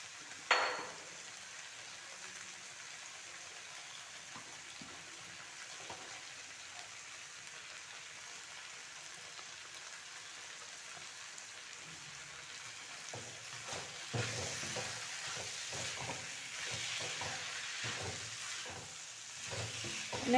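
Jackfruit curry is stirred as it fries in a pan, a faint steady sizzle with soft scraping of the spoon that grows slightly busier toward the end.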